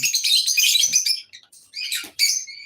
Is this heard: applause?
no